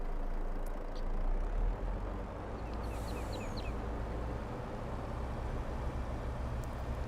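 A small truck engine in the Farming Simulator 22 game idles near a factory as a steady low rumble throughout, with faint chirps partway through, no talk.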